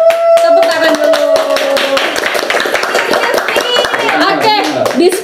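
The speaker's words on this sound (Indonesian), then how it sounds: "Tepuk tangan dulu." A small studio audience claps steadily in dense, close applause for several seconds while a voice and a whistle-like tone sound briefly at the start.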